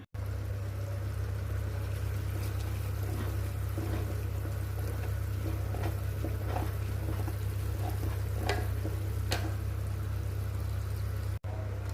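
Homemade ghee simmers on a low flame on a stove while being stirred now and then, a soft bubbling crackle and occasional scraping over a constant low hum.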